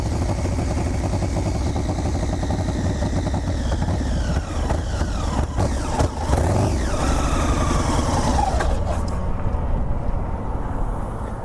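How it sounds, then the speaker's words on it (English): Motorcycle engine from an old, faulty bike running rough near the listener, a steady loud mechanical drone with uneven sputtering bursts before the sound drops away toward the end. "It was spitting and sputtering at that stoplight."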